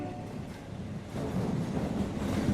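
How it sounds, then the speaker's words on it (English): Train pulling out of a station, a low continuous rumble that swells partway through and holds steady, with no voices. "The train left the station."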